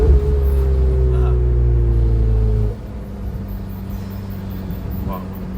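A new Lamborghini Temerario near the factory rumbles past close by with a loud low engine drone that cuts off abruptly midway, leaving quieter road ambience; people talk over it.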